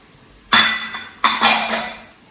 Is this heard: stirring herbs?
yes